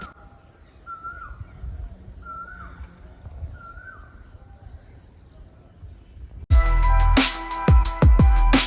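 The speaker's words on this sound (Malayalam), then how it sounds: "കിളികളുടെ സൗണ്ടൊക്കെ കേൾക്കാൻ അടിപൊളിയാണ്" Several bird calls with repeated crow caws ring out over a quiet outdoor background near the Vazhali paddy fields and Vazhalikkavu temple in Thrissur, Kerala, then a louder burst of clattering noise takes over near the end.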